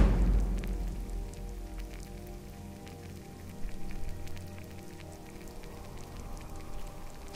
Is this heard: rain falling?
yes